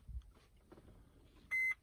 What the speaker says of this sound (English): Yes, we heard the beep.